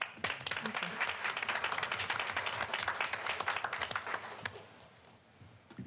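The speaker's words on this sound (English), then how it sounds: "let's give Director Days a big round of applause for that" A meeting audience gives a round of applause to a district director, dense clapping from many hands that holds steady for several seconds and then thins and fades, heard at moderate distance in a quiet hall.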